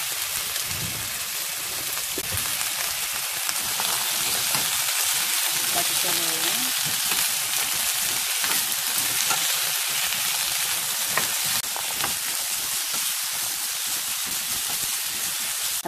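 Potatoes and garlic fry in cooking oil for a soy-braised potato dish, giving a steady, dense sizzle with crackling that runs without a break for the whole stretch.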